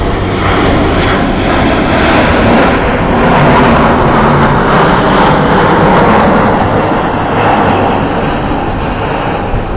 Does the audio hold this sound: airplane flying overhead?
yes